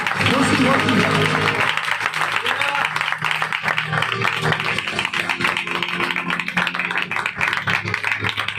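A church congregation at an Easter Sunday service claps steadily and densely throughout, with voices and cheering mixed into the sustained, close applause.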